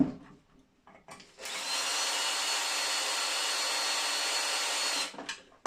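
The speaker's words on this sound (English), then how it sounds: "Now we have Phillips there. Let's undo this." Power screwdriver whirring steadily as Phillips screws are undone from scrap parts in a workshop, a few brief clicks and taps before one long continuous high-pitched run that stops abruptly near the end.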